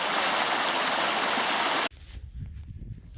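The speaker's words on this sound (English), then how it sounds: "There's a beautiful little stream." A small woodland stream on a hill walk flows in a loud, steady broadband rush that cuts off abruptly, leaving a quieter low, gurgling murmur.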